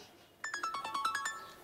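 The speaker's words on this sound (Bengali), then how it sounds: "ভাইয়া তোমার ফোন আসছে" A mobile phone ringtone plays a quick run of bright electronic notes, about nine in a rapid rising and falling pattern, fairly faint and alone.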